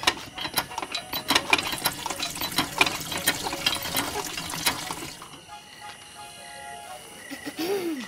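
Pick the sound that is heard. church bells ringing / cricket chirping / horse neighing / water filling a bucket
water filling a bucket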